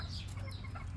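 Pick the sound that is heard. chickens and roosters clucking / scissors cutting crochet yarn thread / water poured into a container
chickens and roosters clucking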